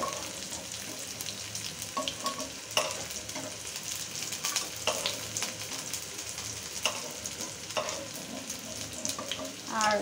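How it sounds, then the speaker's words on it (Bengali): Onions sizzle in hot oil in a pan during village-style taki fish bhorta cooking. A steady, close hiss runs throughout, broken by sharp clicks and scrapes of stirring, with no voices. "পেঁয়াজটা এখন ভালোভাবে ভেজে নেব"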